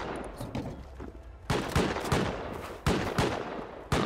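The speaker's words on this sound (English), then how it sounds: "they're dying to their shotgun traps now" Shotgun traps firing in the video game Rust, a run of sharp, loud blasts with several distinct bangs spaced irregularly over a rumbling background of gunfire, no voices.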